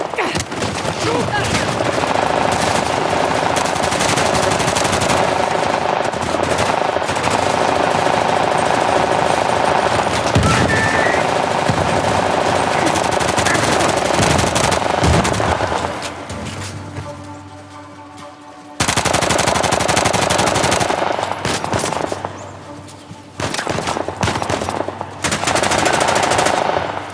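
Sustained bursts of machine gun fire in the video game Uncharted crackle loudly and densely for long stretches, broken by brief pauses, with voices calling out between shots.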